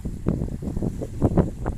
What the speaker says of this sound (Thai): ลมพัดมาโอ้โหสบายเลย